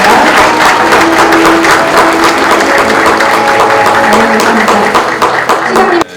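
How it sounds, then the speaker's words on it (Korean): A ceremony audience at an airport investment event applauds, a loud, steady burst of many hands clapping that runs for about six seconds before cutting off, with faint tonal music or chatter beneath. "네, 박수 부탁드리겠습니다."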